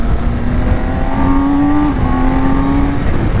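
A 2022 BMW K1600 motorcycle with an ECU flash tune pulls hard under acceleration, its loud, steady engine note climbing slightly in pitch before easing, close and continuous with no voices.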